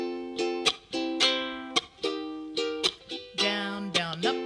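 Ukulele strummed in a split down-down-up-down-up pattern during a lesson, with crisp bright chord strokes in a steady rhythm, close and clear with no talking.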